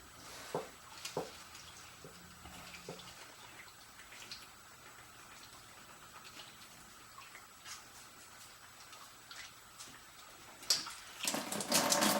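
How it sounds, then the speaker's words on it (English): Water drains back out of a home water-filter line into a bucket, trickling and dripping steadily, quiet and close, with a few small splashes and a louder gush near the end. "This water that's coming out is coming back through this line from this point."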